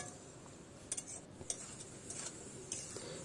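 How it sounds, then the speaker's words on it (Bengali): A spatula stirs cooked jute greens in a pan, giving light scraping and clinking touches against the metal over a steady low background hiss, with no talking. "এবার শুধু খুন্তি দিয়ে ভালো করে একটু নাড়াচাড়া করলেই জিনিসটা আরও একটু মজে যাবে।"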